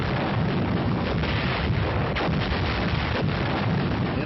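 Artillery fire in old wartime footage forms a continuous, muffled, heavy roar with no clear gaps, dense and loud throughout on a worn, band-limited recording.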